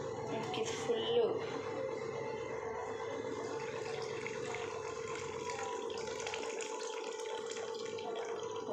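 Curdled milk for paneer is poured through a cotton cloth-lined strainer, giving a steady close trickle and splash of liquid that runs throughout, with a faint voice in the background.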